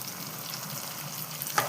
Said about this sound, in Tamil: சேர்த்து நல்லா வதங்கணும்